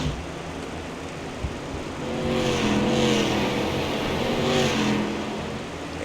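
Street stock race cars run nose to tail around an oval track, their engines droning loudly and swelling as the pack comes through the corner, with no talk over the roar.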